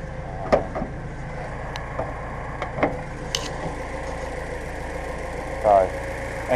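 A 1987 Porsche 944 engine idles with a low, steady hum under an open bonnet, while scattered clicks and taps sound close by.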